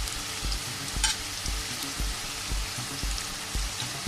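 Green chilies fry in an oily pan for a Spanish omelette, giving a steady loud sizzle with regular stirring scrapes about twice a second, close up and with no voices.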